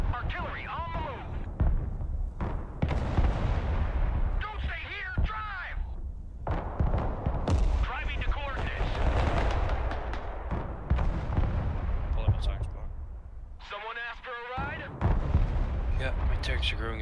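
Rocket and artillery fire booms and rumbles through a battle in the strategy video game Broken Arrow, with repeated heavy thuds and blasts over a constant din, while voices talk throughout.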